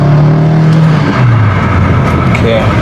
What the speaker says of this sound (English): The car does sound a little deep.